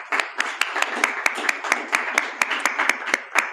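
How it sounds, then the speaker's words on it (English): An audience applauding volunteers at a talk, with individual hand claps clearly audible over a dense, even round of clapping, close and continuous. "Can I get a round of applause for both Lynette and Kevin?"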